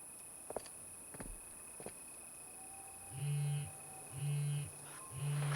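A mobile phone buzzes on vibrate inside a video game, three low, even pulses about a second apart over a faint steady hum, with a few soft taps and footsteps before it.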